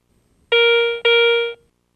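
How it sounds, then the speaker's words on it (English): A Garrett Ace 350 metal detector sounds a bell tone for a silver coin: two clear, ringing electronic chimes back to back, loud and close, each sustained for about half a second before stopping cleanly. "Non-ferrous targets with high conductivity, such as larger silver coins, produce a bell tone signal"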